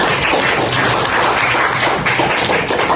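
Classroom applause for a classmate's presentation during peer teaching, a dense continuous patter of many hands clapping close by for about three seconds.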